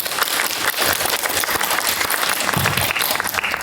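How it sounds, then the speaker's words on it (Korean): A cinema audience at the Jeonju International Film Festival gives a director a big round of applause at a post-screening talk: loud, dense, continuous clapping from many hands that stays steady for several seconds with no speech. "큰 박수로 맞아주세요."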